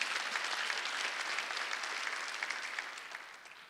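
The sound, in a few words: congregation clapping during church service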